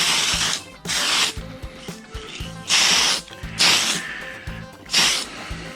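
An aerosol spray can lays light coats of paint on a Tamiya Avante RC car body in six loud, close hissing bursts of about half a second each, with short gaps between them.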